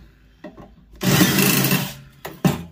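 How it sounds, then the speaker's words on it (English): A power driver removes screws from a microwave magnetron, giving one sustained whir of about a second between short bursts of clicking and rattling. "Take off the screws."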